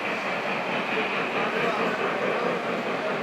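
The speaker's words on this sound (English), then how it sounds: "Trains are running all over the layout." Lionel model trains run across a large club layout at an anniversary event, giving a steady, dense rolling rumble with faint clicking, with a crowd murmuring throughout.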